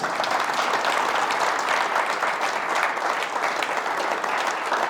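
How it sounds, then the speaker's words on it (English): Audience at a baseball team luncheon Q&A applauding together, a steady dense wash of many hands clapping that holds evenly for the whole stretch, fairly close and continuous. "give David a big round of applause"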